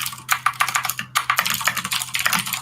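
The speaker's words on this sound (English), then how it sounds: "I hear keyboard typing." Someone types rapidly on a computer keyboard, a dense run of close, crisp clacking keystrokes with a short pause partway through.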